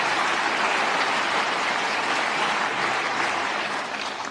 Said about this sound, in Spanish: Mira Meloni, como aplaude, con qué desgana.